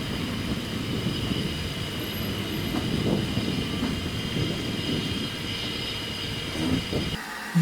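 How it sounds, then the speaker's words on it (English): The Ffestiniog Railway double Fairlie steam locomotive David Lloyd George rumbles steadily into the station with its service train, a continuous rolling rattle of wheels and carriages close by, ending abruptly. "see David Lloyd George arrive with a 10:15 service train from Porthmadog to Blaunau Ffestiniog"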